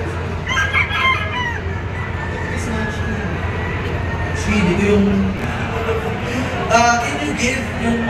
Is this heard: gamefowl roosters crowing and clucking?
yes